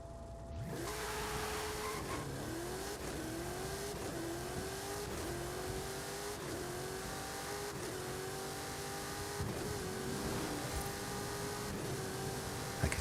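A car in Forza Horizon 5 drones steadily with repeated engine pitch sweeps as it eases off and accelerates again, fairly quiet and continuous with no talk.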